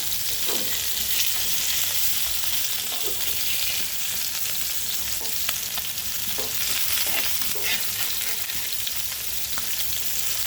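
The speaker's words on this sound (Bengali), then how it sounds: "মাছগুলাকে একটু ফ্রাই করে তো পেঁয়াজ দিয়ে একটু ভাজা ভাজা করে এখানে রান্না করব" Rohu fish pieces fry with onion in a pan, giving a loud, continuous sizzle with occasional soft stirring clicks and no talking.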